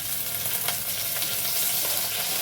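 Potatoes frying in oil left over from fried fritters, with a bay leaf tempered in it, giving a loud, dense, continuous sizzle up close.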